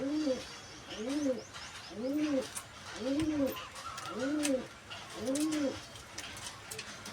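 A male Kalchira pigeon and a female Kagji pigeon coo at home, six evenly spaced, close, rounded coo phrases about a second apart over faint background noise.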